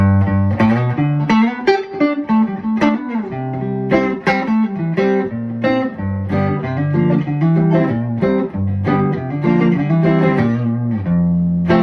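Electric guitar, a Fender Stratocaster through a Fender Deluxe Reverb tube amp, plays a melodic phrase of chords and single notes, each strum ringing out with lush, spacious reverb; no voices.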